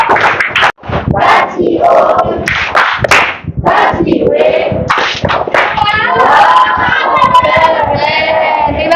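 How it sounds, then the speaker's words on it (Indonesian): A class of children applauds together after a group answers correctly, clapping mixed with cheers and chatter for the full stretch, loud and dense throughout. "Kita kasih tepuk tangan."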